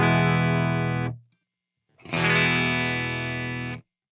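Balaguer Espada electric guitar through heavy distortion, two sustained chords ringing with rich harmonic buzz, separated by a brief silence, loud and close with no talking.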